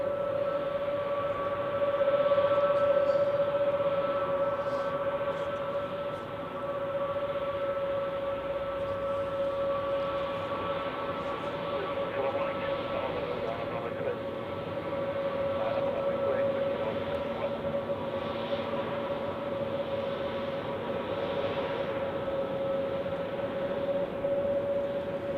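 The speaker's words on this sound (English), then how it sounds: "And we have a departure. Swiss with an A320 Neo going to London Heathrow." A Swiss Airbus A320neo departs Zurich Airport on a winter day, its engines a steady droning roar with a sustained tonal whine held throughout, heard from a distance.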